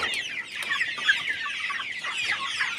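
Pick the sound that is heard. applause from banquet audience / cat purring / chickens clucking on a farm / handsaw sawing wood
chickens clucking on a farm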